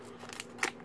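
Scissors snip through a plastic blind bag in a few quick, crisp cuts with light crinkling, one sharper snip standing out near the end, close up and fairly quiet.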